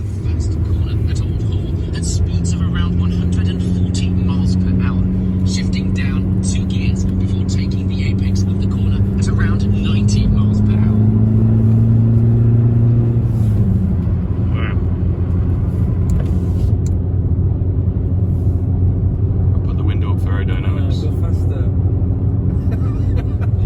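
Fiat Panda 100HP driving a lap of the Oulton Park race circuit behind a safety car. Its engine drones loud and steady in the cabin, rising in pitch for a long stretch, then dropping sharply and settling into a continuous rumble.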